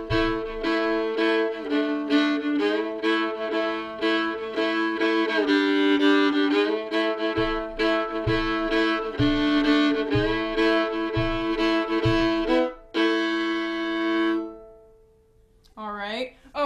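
A fiddle plays the A part of the tune Red Haired Boy over its chord progression at a live jam workshop lesson, with sustained bowed notes and low chord pulses underneath, then fades out before a brief voice at the end.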